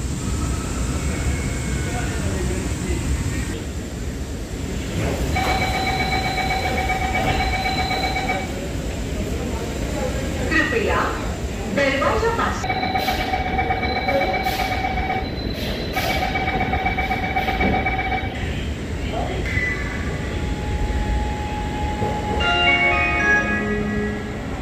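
A Mumbai Metro Line 3 (Aqua Line) train rumbles and accelerates away from MIDC station, with rising electric motor whines and squealing wheels; a voice talks briefly over the steady mechanical noise.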